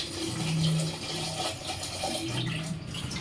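Eggs are rinsed under a running kitchen tap, giving a short, steady splash and trickle of water close by with no talking.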